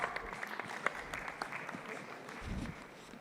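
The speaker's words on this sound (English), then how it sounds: "Big round of applause, ladies and gentlemen." Audience applause at a live stage show in a Grand Hyatt ballroom in Qatar, a steady wash of clapping from a large crowd heard at moderate volume, with a low thump near the end.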